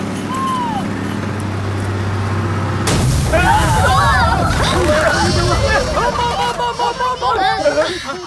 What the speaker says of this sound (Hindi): कोई बम नहीं फूटा, बस का टायर है।